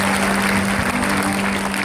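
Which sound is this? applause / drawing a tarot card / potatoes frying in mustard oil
applause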